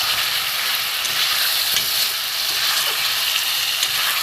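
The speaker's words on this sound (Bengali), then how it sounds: "মশলাটা ভালো করে ভাজতে হবে" Chicken masala sizzling and frying in a pan while being stirred, a steady dense hiss with occasional scraping stir noises and no talking.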